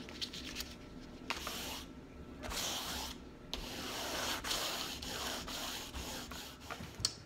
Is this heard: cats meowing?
no